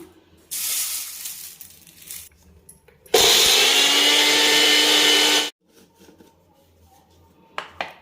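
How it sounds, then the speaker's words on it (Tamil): An electric kitchen mixer grinds horse gram with roasted curry leaves, dried red chillies, salt and tamarind into a coarse powder, giving two loud whirring bursts, a shorter one and then a sustained roar of about two seconds, with a brief clatter at the end. "எல்லாத்தையும் சேர்த்து கோர்ஸாக அரைச்சாச்சுங்க"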